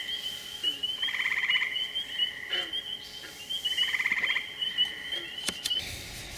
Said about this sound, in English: The deep one is a northern green frog. The peeps are peepers.